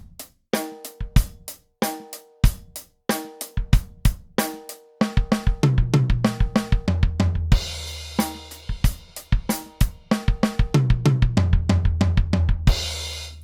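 Drum kit fills of sixteenth-note single strokes roll around the toms, played loud and close in repeating groups. Crashes and bass drum hits close out the phrases, with short gaps between runs and no voices.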